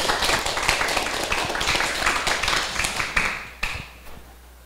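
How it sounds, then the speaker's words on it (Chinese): An audience clapping in a lecture hall to welcome the speaker at a class session, dense fairly close applause that thins out and fades over the last second. "请大家用掌声欢迎"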